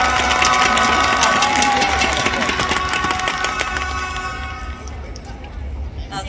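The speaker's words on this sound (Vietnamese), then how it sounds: "xin hãy cho tôi một tràng pháo tay lớn lên vì tôi cảm thấy quá là hồi hộp" A crowd applauds and cheers at a live launch event for the Sunneva Island Da Nang project, a steady wash of clapping and shouts that holds throughout, with music and a voice over it.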